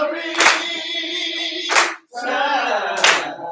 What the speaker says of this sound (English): Y'all ain't clapping your hands over there.